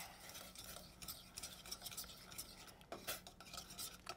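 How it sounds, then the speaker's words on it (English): Black and white pepper are stirred in a pan with a utensil, giving soft continuous scraping and clinking with faint sizzling, quiet and close. "Stir that around a little bit."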